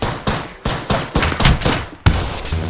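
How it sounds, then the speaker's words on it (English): Gunfire in Apex Legends comes in a close, loud run of about eight sharp shots at a steady, rapid rhythm, each ending in a short decaying tail. "The enemies are shooting at me."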